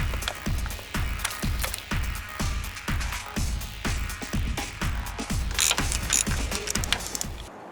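A ratchet wrench tightens bolts on a Jeep J20 Gladiator pickup, clicking in quick, repeated bursts of pawl ticks with short pauses between strokes, close and clear, no voices.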